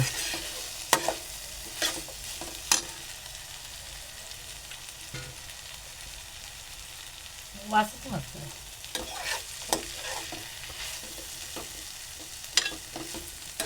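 Vegetable dish made from kadamula root being stirred and stir-fried in a pan, with soft sizzling under scattered scraping and clattering strokes of a spoon, close and fairly quiet, no talk.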